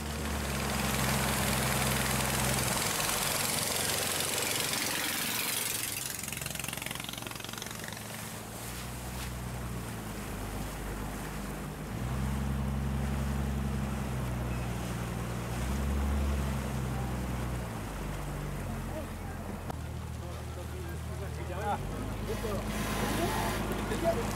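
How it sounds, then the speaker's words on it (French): A small motorized pirogue idles and chugs with a steady low engine drone while towing a boat backwards on open water, with wind and lapping waves around; the engine note shifts in pitch a few times, and voices are faintly heard. "Apparemment, il y a une petite pirogue à moteur qui nous recule."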